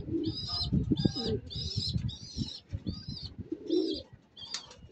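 Racing pigeons coo in a loft in San Pablo, Laguna, including a grey checkered cock among the breeders. Repeated soft, low coos sound up close, broken by bright chirps and a brief flutter of wings, and nobody talks.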